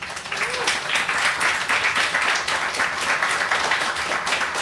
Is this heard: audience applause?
yes